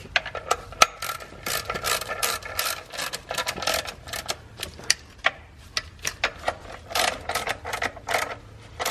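A ratchet snugs up the clutch pressure plate bolts against the flywheel during a six-speed transmission swap. It gives quick, repeated clicking bursts at a steady, close-up level, with brief pauses between runs.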